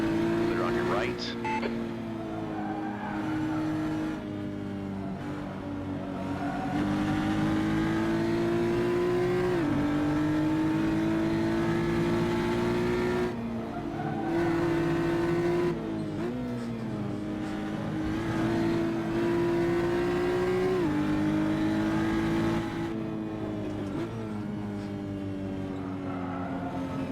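GT4 race cars in the Assetto Corsa driving game drone and rise through the gears, engine pitch climbing and dropping at each shift as rival cars run close, with someone talking over the engine sound.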